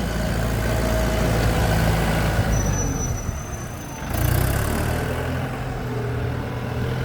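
A Kubota M108 tractor's heavy diesel engine rumbles steadily at idle, a deep low drone close by with a brief dip midway before resuming.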